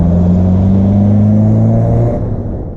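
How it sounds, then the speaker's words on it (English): A 1966 Datsun Roadster's engine droning steadily while driving, a loud close drone that holds pitch and then eases off at the end. "I think this engine sounds pretty good."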